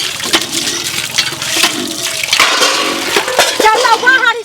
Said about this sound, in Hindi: हम पानी चला दै छी